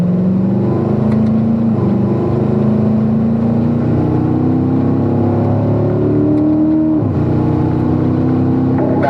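A car pulls hard in fifth gear on the Spring Mountain race track, its engine droning loud and close with a steadily rising pitch. It briefly dips near the end, then climbs again, with no talk.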